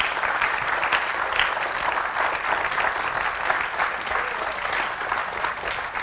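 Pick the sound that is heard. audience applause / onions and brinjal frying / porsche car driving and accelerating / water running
audience applause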